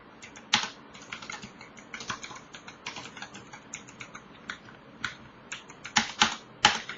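Typing on a computer keyboard at a desk, a steady patter of close, crisp key clicks in irregular bursts with a few louder strokes, no voices.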